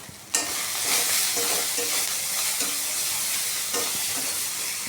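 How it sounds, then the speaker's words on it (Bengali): Spice masala of red chilli powder, turmeric and salt frying in a pan for a carp fish dish, with a steady loud sizzle and repeated scraping stirs throughout. "ভালো করে নেড়েচেড়ে একটু জল দিয়ে দিচ্ছি, মশলাটাকে কষিয়ে নিতে হবে।"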